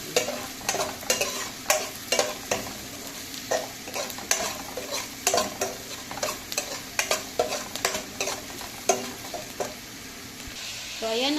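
Onion and garlic sauté in a pan, a constant sizzle with a steady rhythm of spatula strokes scraping and tapping against the metal, close and clear, with little talk.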